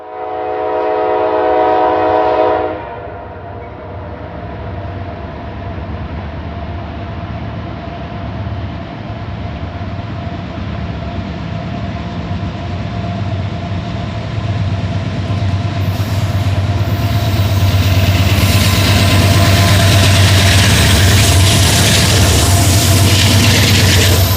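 A Norfolk Southern freight train crosses Murphy Street in Madison at night, heard from an overpass. A horn sounds near the start, then a loud, steady rumble of wheels and cars builds and stays close throughout.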